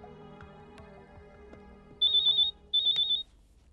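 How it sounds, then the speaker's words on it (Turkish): Two bursts of an electronic telephone ringtone sound in a Turkish TV drama scene, each about half a second of bright, steady warbling tone separated by a short pause, loud over quiet background sound. "Çalıyor."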